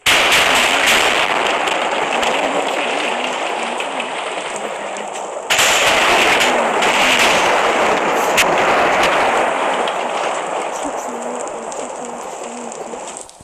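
A loud, sustained crackling roar of a mega lightning explosion in Minecraft, rising sharply twice with rumbling, rain-like noise, game audio close and dense.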